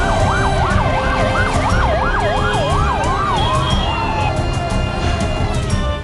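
An ambulance siren wails loudly in rapid rising-and-falling sweeps over road and engine noise while the vehicle carries a body from Dharwad to Betageri; the wail slows and fades near the end.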